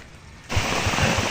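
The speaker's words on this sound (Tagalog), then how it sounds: "Inabutan tayo ng ulan" Sudden heavy rain starts partway through, a steady loud hiss of downpour on surfaces close by after a near-quiet opening, with no talk.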